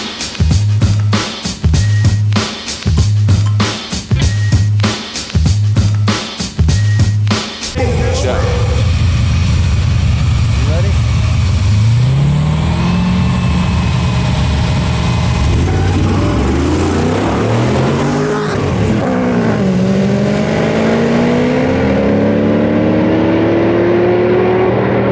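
A 6.4L Hemi Jeep drag races a V8-swapped car: after a rhythmic idling pulse, loud engines roar and rev up through rising gear shifts, fading as the vehicles pull away, with talk heard early on.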